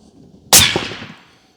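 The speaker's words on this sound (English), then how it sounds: "we have a Bergara 300 Win Mag with an AB Raptor 8 with a 3-inch reflex. Send it." Single suppressed rifle shot from a Bergara 300 Win Mag fitted with a Raptor 8 suppressor, a sharp loud crack followed by a decaying outdoor echo, heard alone.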